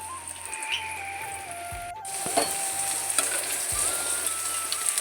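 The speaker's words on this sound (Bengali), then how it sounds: "এই যে মাংস রান্না করবো সেজন্য ফোড়ন দিয়ে নিলাম" Whole spices crackle and sizzle in hot oil as a tempering for a meat curry, a steady close frying hiss with a few sharper pops and faint clinks of a utensil, no voices.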